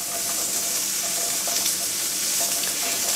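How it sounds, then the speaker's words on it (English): Soft, steady hissing and bubbling rumble from inside a pressure canner calming down after the heat is turned off, settling evenly with occasional faint pops, no talking. "you can hear things start to calm down inside your canner"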